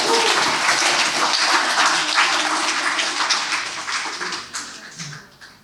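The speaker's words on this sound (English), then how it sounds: "One more round of applause for all of our toasters" Wedding guests at a ranch reception give a sustained round of applause for the toasters, steady and full throughout before fading at the end.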